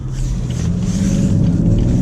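A 2017 BMW 335d's 3-litre diesel engine drones low and steady as it accelerates, the rumble building slightly, close by with no voices.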